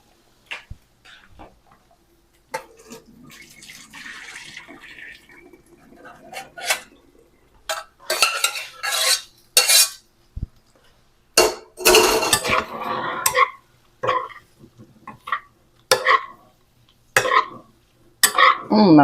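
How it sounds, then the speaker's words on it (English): Pasta goes into a pot of water and gets stirred, with close clanks and scrapes of a utensil on metal in irregular bursts, sparse and quiet at first, then louder and more frequent. "Let's put our pasta right in now."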